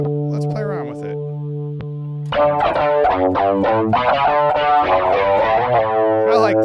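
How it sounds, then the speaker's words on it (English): An electric guitar on its humbucker pickup runs through a chorus doubler effect; a sustained chord rings first, then a run of shimmering, thickened notes and bends plays on, loud and close with no talk. "I like the sound of the chorus doubler"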